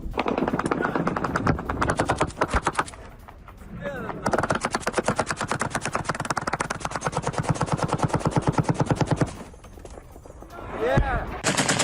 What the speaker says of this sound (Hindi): ये देखिए एंटी एयरक्राफ्ट गन से अटैक किया जा रहा है।